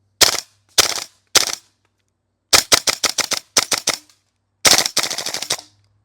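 A Classic Army URGI MK16 gas blowback airsoft rifle cycles in sharp, loud bursts: three single shots, then two rapid strings of about six and four, and a final quick string of around seven, with silence between.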